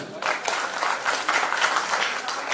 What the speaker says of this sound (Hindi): ओके, के लिए एक बार जोरदार ताली।